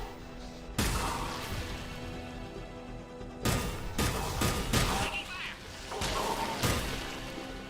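Gunfire in the video game Mass Effect 3 comes in sharp, loud bursts separated by short gaps, some shots landing in quick clusters over a constant low background rumble.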